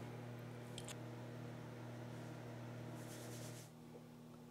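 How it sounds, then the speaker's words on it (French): A microwave oven on high power heats a chocolate mug cake, giving a steady low electrical hum with a few faint clicks. The hum drops away near the end. "1 minute et demie au micro-ondes, puissance élevée."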